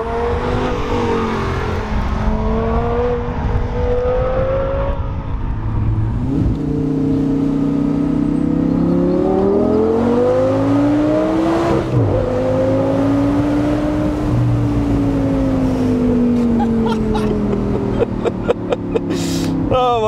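A loud 2012 Audi R8 GT Spyder engine revs hard and climbs repeatedly, dropping sharply at each gear change before pulling up again, continuous and close.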